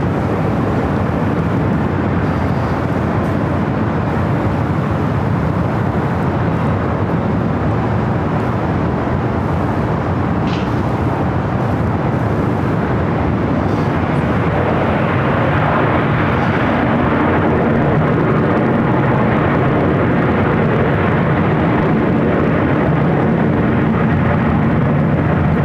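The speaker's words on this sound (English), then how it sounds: "747 touching down any moment on the south side at 25 left" A Boeing 747 lands on runway 25 left at LAX, a loud continuous broadband roar of jet engines that stays heavy throughout, swelling a little toward the end with no voices over it.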